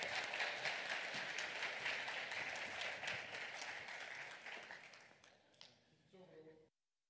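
A church congregation at a Sunday worship service in Seattle claps warmly to welcome a pastor to the front. The steady, fairly quiet applause sounds a little distant, thins out, then breaks off abruptly near the end.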